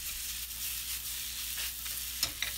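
Onions frying in olive oil in a hot pan give a steady, soft sizzle throughout, with a couple of small crackles near the end and no talking.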